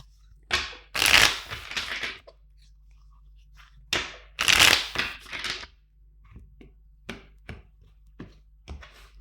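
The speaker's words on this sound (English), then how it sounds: "Two more shuffles." Tarot card deck shuffled twice by hand, each pass a crisp riffling burst followed by softer taps and shuffling of cards, close and clear with no talking.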